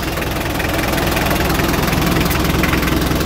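An engine runs at idle after a mechanic's repair, a loud, close, continuous rumble with an even, slightly pulsing beat and no voices over it.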